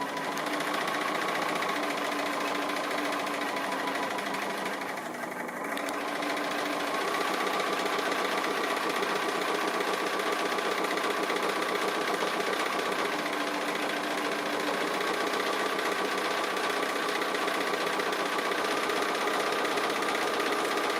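A sewing machine runs steadily through free-motion appliqué stitching on a quilted tree design. Its hum is continuous, close and loud, with a brief dip just after five seconds, and no one speaks.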